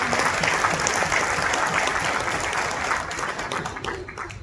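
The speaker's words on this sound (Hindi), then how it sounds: "एक बार जोरदार ताली होनी चाहिए नामदेव माने सर की" An audience at an officers' meeting bursts into loud, sustained applause for Namdev Mane, a dense wash of clapping that holds steady and tapers slightly near the end.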